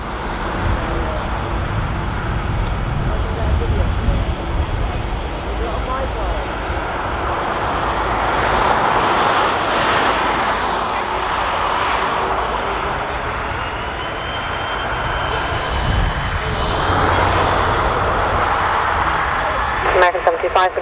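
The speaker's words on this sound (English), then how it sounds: "runway 10 right, clear for takeoff" An airliner's jet engines roar continuously on takeoff from runway 10 right at Dublin Airport in summer, loud and broad with a swelling, shifting whine. Air traffic control radio talk runs over it.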